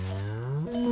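Deep, drawn-out moo from an ox working the fields, a single long low call that rises slightly before a second lowing note, heard close and loud with no talk.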